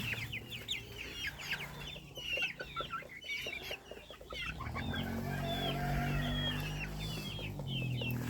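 Hens, a small dark bantam among them, cluck and chatter while being fed in a farmyard. Several birds call close by, and the soft clucking grows denser and louder in the second half.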